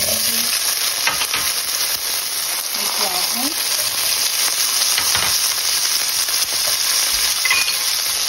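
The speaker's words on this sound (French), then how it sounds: "à l'intérieur de mon huile de friture de poisson comme ça, je vais rajouter les tomates cerises" Loud, steady sizzling of cherry tomatoes frying in fish-frying oil, with occasional stirring clinks and a faint voice in the background.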